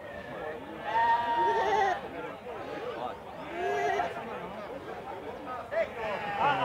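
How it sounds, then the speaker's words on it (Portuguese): Several goats bleat in wavering cries, some overlapping, amid a murmur of people chatting nearby at a livestock market in Campina Grande, Brazil. "Agora as cabras."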